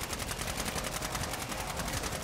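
Rapid automatic gunfire from shooting zombies in Call of Duty Modern Warfare 3 Zombies, a dense, evenly spaced stream of shots that runs without a break and sits at a moderate, slightly distant level.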